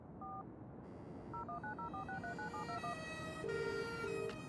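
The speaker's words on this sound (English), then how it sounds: "Perhaps I should make a call." Touch-tone phone keypad beeps from the video game Broken Sword 3: The Sleeping Dragon, a rapid series of paired DTMF tones as a number is dialed, fairly loud over a steady background hum, ending in a longer tone.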